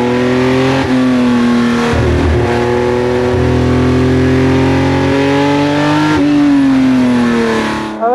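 A Porsche 910 race car engine screams loudly, pitch climbing from low revs through several gear changes with brief dips between shifts, sustained and close.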